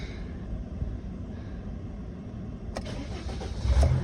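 2004 Dodge Sprinter 140 van, a low steady engine rumble with a couple of sharp clicks near the end as the engine turns over and catches, close by, with no talking.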